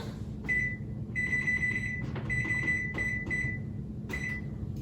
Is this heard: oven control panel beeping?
yes